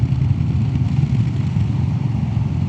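A Royal Enfield Classic 350 fitted with a FuelX Lite and DNA filter rumbles steadily while riding along a country road, with a low, even, continuous engine thrum close to the listener.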